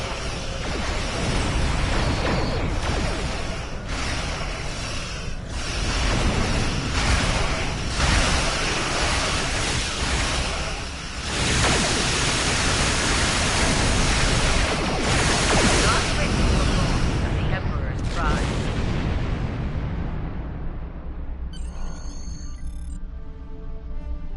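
Starship weapons fire pounding a habitat in a Star Trek Online space battle, a dense roaring wash of blasts and rumble that runs loud and unbroken before cutting off near the end, with a voice talking over it.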